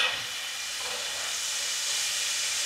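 Pieces of chicken for a Caribbean curry hit a hot pan and set off a loud, steady, bright sizzle that hisses without pause the whole time, with no voices over it.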